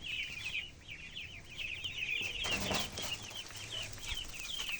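Ducks in a new pen give a rapid run of repeated high quacking calls, fairly quiet and continuous, with a brief rustle midway and no talking.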